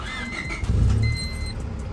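Honda EX Coupe EJ8 with a 5-speed, its engine running smoothly with a steady low idle rumble close by, a brief rise in engine noise midway and a thin high whine above, no talk.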